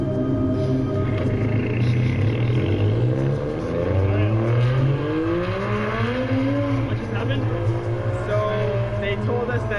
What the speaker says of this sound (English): This is real street racing and drifting in the mountain roads of Gunma.